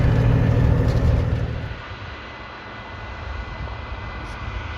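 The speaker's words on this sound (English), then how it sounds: "We got a John Deere combine over there." A John Deere combine harvesting in a neighboring farm field gives a steady, distant low rumble, loudest at first and then easing to a softer continuous drone.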